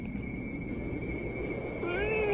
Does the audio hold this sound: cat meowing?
yes